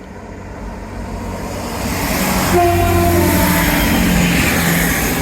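Passing train on the Teignmouth seawall gives a loud, steady horn toot over a rising rumble of rolling wagons, close and building as it passes.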